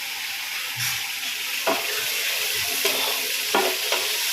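Green chillies that were soaked in vinegar sizzle and hiss steadily in a hot pan, with a few soft stirring clicks, close by and no talking.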